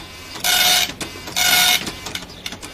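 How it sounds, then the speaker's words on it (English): A printer runs in two loud mechanical bursts, each about half a second long, separated by a short pause and followed by fainter clicks and whirs. "I think the printer doesn't know how to use your new paper, Ted."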